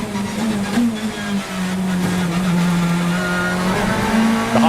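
BTCC touring cars racing at Snetterton, engines droning loud and steady with a shifting pitch as cars pass at speed, closing in a rising rev near the end.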